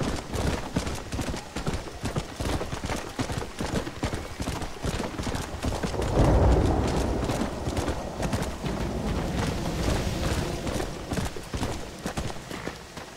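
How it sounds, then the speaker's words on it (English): Constant clip-clopping of several horses' hooves in the game Red Dead Redemption, in a rapid, busy rhythm, loud and close, with a brief heavier thud midway. "Ooh, horses."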